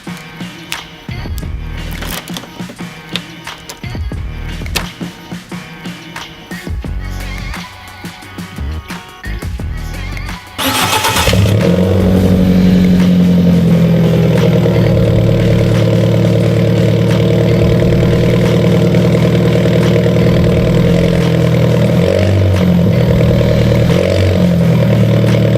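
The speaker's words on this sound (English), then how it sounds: "So why don't we just fire it up and see what it sounds like." An Alfa Romeo 4C's engine cranks and fires after a stretch of clattering handling noise, then settles into a loud, steady idle with a deep rumble that continues close by.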